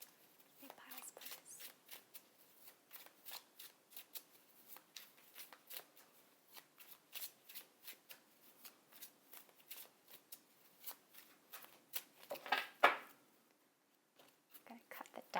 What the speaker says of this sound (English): Get it all good and shuffled here.